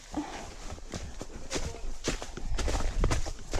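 A horse's hooves clip-clop close by outdoors in a run of uneven, thudding steps over ground, with rustling and some movement noise around them.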